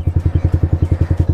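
A Yamaha R15 M motorcycle idles loudly and close by, its exhaust giving a steady, even run of deep rhythmic pulses with no voices.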